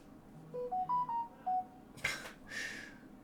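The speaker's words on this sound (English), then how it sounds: "my phone has started" Mobile phone sounding a short series of rising and falling electronic tones, a quick bright melody of separate beeps, followed by two brief bursts of noisy rustle; faint and close, with no talk.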